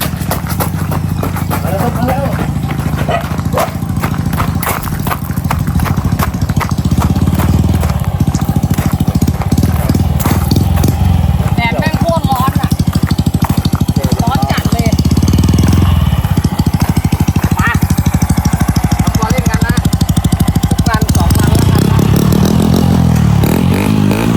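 A modified 110i motorcycle engine revs and rumbles steadily throughout, loud and close, with voices mixed in over the engine noise.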